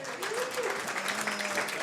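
An audience at a B2B SaaS marketing event claps in a sustained round of applause, steady and fairly close, with some voices mixed in.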